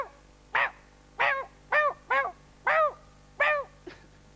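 A voice imitating a happy dog, giving seven short yelping barks in a loose, irregular rhythm, close and clear with no other sound around them.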